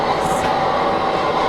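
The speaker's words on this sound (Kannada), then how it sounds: "ಇಲ್ಲಿ ಟ್ರೈನ್ ನೋಡಿ ಅಮ್ಮ ಬ್ರೋ ಇಲ್ಲಿ ಟ್ರೈನ್ ಸಿಗುತ್ತಾ ಟ್ರೈನ್ ಸಿಗುತ್ತೆ" A train passes in GTA 5 as a brief, close, continuous rumble and roar of rolling rail cars.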